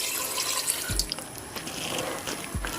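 Water is poured into a clay handi holding pieces of desi chicken, a soft continuous splash and trickle close by, with a couple of dull knocks against the pot.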